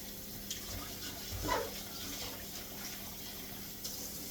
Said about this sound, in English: We'll put that under some running water.